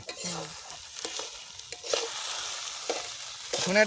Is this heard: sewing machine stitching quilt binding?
no